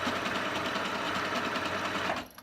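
Singer 8500Q sewing machine sewing a locking stitch on fabric, a fast, steady mechanical whirring hum close by that stops abruptly near the end.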